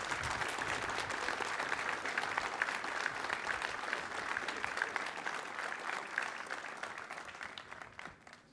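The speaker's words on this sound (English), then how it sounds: "Please give a round of applause for all our distinguished guests" Sustained applause from an audience honoring distinguished guests at a military retirement ceremony for Lieutenant General Stephen R. Lanza, steady and dense for several seconds before tapering off at the end.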